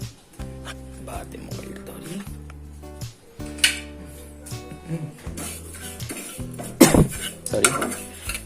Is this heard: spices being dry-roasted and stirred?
yes